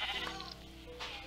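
Sheep bleating in a video game, a short wavering bleat heard close and clear, followed by a second fainter bleat over a steady low hum.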